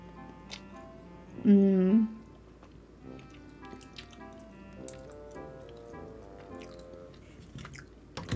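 Up close, someone eats a snack bought at a Japanese convenience store, with soft, wet chewing and small squishy bites repeating irregularly, plus a brief hummed vocal sound near the start.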